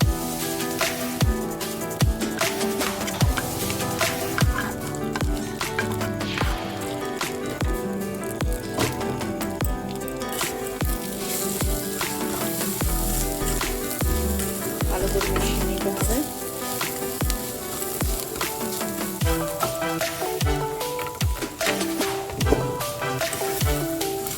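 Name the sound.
fried vegetables added to frying sooji upma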